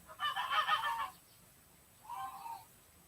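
Geese honk loudly outdoors in two distinct bursts, a longer strident volley followed by a shorter call after a brief pause.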